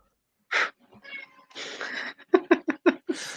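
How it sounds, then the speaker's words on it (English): A cat on a podcast livestream gives a quick series of short, close meows and chirps, scattered between brief breathy sounds and a moment of speech. "that cat you got there, Candace, is a killer salesman."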